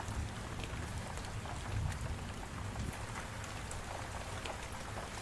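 Rain and thunder ambience plays quietly in the background during a Minecraft session, a steady faint hiss of rainfall with low rumbling underneath, no voices.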